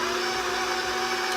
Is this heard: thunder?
no